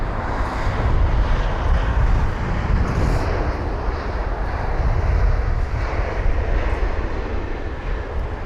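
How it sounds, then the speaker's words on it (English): TAP Air Portugal airliner at London Heathrow, a loud continuous jet engine roar that swells and lingers across the whole stretch, with no voices over it. "TAP Air Portugal aircraft right behind."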